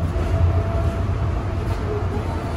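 A Calgary Transit C-Train runs through an underground section, heard from inside the car as a loud, steady low rumble with rail roar. There is no clear talk.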